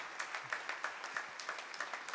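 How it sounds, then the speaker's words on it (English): Members of a church congregation at a memorial service clap their hands to celebrate Javier, a brisk, steady round of applause from many people, close and continuous throughout with no talk. "I think we ought to clap our hands one more time to celebrate Javier"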